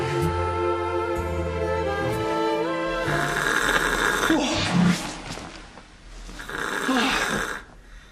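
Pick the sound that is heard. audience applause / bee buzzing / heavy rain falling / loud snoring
loud snoring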